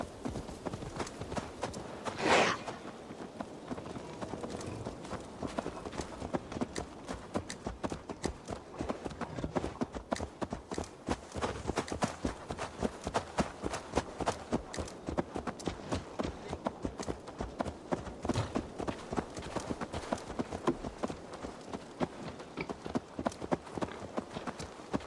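Horse hooves clip-clopping at a steady trotting rhythm in AC Valhalla, continuous and fairly close throughout, with a brief sharp sound near the start.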